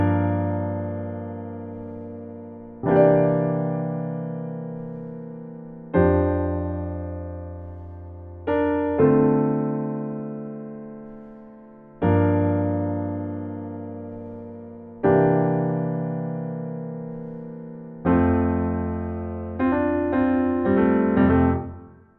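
Piano playing a song at full tempo, a run of sustained chords struck roughly every three seconds, each ringing and decaying, with a busier flurry of notes near the end, close and clear with no talking.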